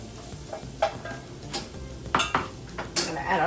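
Garlic going into a pot of seasonings for crawfish étouffée, with a soft steady sizzle under scattered scrapes and clinks of a spoon against the pot, close and moderate in level, no voices.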